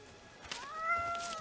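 A cat in the video game Indiana Jones and the Great Circle gives a single drawn-out meow, rising then falling, heard clearly over quiet background ambience.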